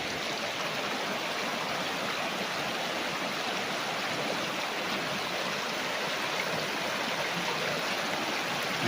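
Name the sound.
strong current of a river flowing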